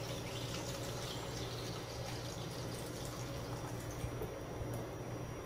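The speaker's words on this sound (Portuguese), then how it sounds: "Eu vou colocar o resto da água aqui." Water poured steadily into a homemade detergent mixture made with salt and bicarbonate, a continuous soft splashing fill with no talking.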